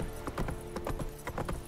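Horse hooves galloping in The Witcher 3, a quick rhythmic clip-clop of repeated hoofbeats, close and fairly loud.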